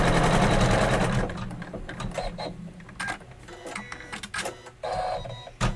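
A Kimberbell-project embroidery machine stitches a placement line on fabric for a pillow cake block, producing a loud, fast, continuous needle rattle up close, varying in intensity with brief changes of pace.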